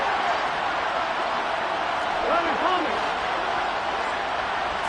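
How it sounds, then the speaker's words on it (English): A stadium crowd in the video game Madden makes a steady, dense roar before a two-point conversion. It swells slightly partway through, and a commentator talks over it. "Listen to this crowd now"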